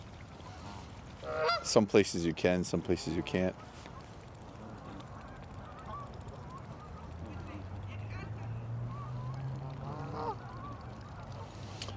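Geese honk in a loud cluster of repeated calls at a pond, followed by quieter, more scattered honking, with people talking nearby and a low engine-like drone passing in the background.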